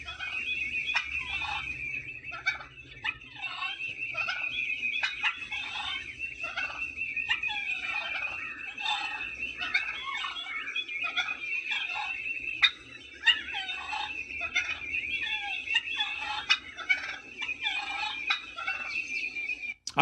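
Turkey gobbling, played as a secret sound on a radio contest, in a continuous rapid, warbling run of repeated calls that lasts about twenty seconds at steady moderate loudness with no talk over it.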